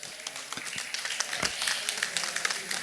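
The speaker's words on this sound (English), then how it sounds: "A round of applause for our panelists." Audience applause for panelists at a high-level agri-finance side event, a brief, moderately loud burst of clapping with distinct sharp claps standing out from the steady patter.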